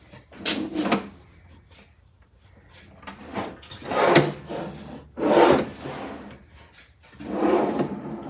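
A drawer in a repurposed metal file cabinet slides open and shut several times, each pass a scraping rub with pauses between, fairly close and moderately loud.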